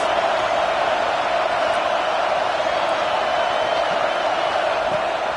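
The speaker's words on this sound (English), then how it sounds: "This crowd trying to make life miserable for this offense" A college football stadium crowd roars on third down, a loud, steady wash of noise that carries on without a break.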